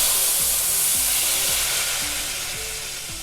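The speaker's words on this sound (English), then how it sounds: "I'm using the same pan that I seared the lamb in, and I'm going to add 1 cup of red wine" Red wine hitting a hot pan used to sear lamb gives a loud, steady sizzle and hiss that fades slightly, with soft repeated scraping strokes underneath as the liquid bubbles.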